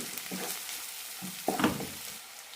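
Masala roasts in a pan for broken wheat biryani, a soft close sizzle broken by a few brief stirring scrapes, with no voices.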